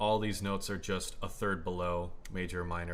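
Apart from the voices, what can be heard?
No everyday noises stand out.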